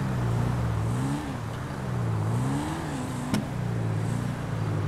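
A loud car engine in the GTA 5 video game drones steadily with a low wavering hum, rising and falling slightly in pitch as it idles and revs, with a single sharp click partway through.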